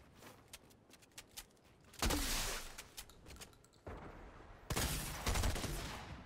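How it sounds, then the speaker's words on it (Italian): Gunfire in the Fortnite Chapter 3 battle royale game, with sharp scattered shots early and then two loud dense bursts of rapid fire, heard nearby with no voices. "ho sentito spari qua dietro"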